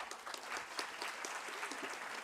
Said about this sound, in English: so he deserves a round applause